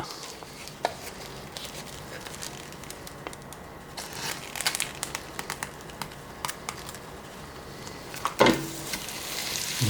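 Sausage sizzles and crackles in leftover bacon grease in a one-pot Zuppa Toscana soup pan, with steady frying hiss, scattered pops and a few sharp utensil clacks near the end.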